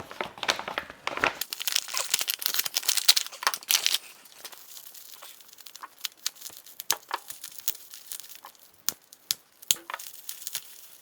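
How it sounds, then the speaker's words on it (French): Packaging for an Omega F300 tuning fork watch from the 1970s is unwrapped by hand, with close, crisp crinkling and rustling in dense bursts at first, then thinning out into scattered crackles and soft taps. "laissez-moi déballer la montre"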